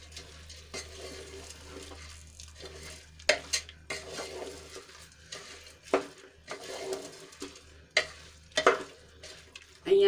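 Soaked long-grain basmati rice and peas being stirred together in a pressure cooker: quiet scattered scrapes and metallic knocks of a spoon against the pot over a low, faint background, close with no talking.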